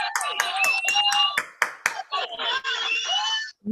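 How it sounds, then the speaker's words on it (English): A small group claps briefly in a quick irregular burst of claps, close by, with voices talking and exclaiming over them. "We'll give a clap"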